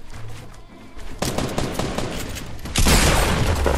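Shotgun blasts in the video game Fortnite boom in a burst of several rapid, loud shots with a heavier blast near the end, amid other in-game action.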